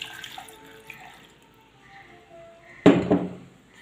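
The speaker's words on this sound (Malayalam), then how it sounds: "ഇനി നമുക്ക് ഒരു ഗ്ലാസ് വെള്ളം" Water from a glass is poured into a blender jar holding watermelon pieces, a short splashing gush near the end after a quiet lead-in.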